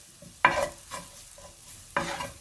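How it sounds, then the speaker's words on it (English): Flour and vegetables fry in a pan for smothered pork chops, stirred in three distinct scraping strokes over a soft, steady sizzle, close and with no voices. "So you just want to cook it down."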